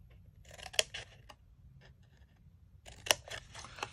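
Scissors snip through paper card for a teeny tiny ladybug candy box, with a few crisp close cuts in two clusters separated by a quiet pause, alone with no talk.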